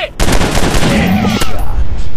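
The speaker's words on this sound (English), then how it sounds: "Suppressive fire on target!" Continuous loud automatic gunfire in the Commando Strike mobile shooter, a rapid rattling burst that barely pauses across the whole span, close and dominant.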